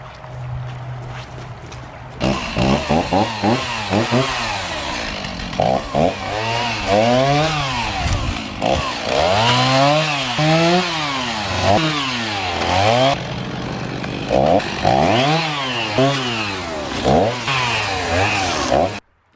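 A chainsaw limbing a felled tree close by, its engine repeatedly revving up and dropping back in quick bursts as it cuts, continuous and loud for the whole stretch.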